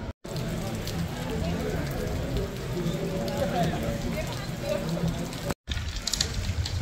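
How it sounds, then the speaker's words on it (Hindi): Heavy rain pours steadily on a street in Walthamstow, London, a dense broadband wash that fills the whole stretch at high level, with a brief drop near the start and another near the end. "बारिश नहायत तेज़ शुरू हो चुकी है"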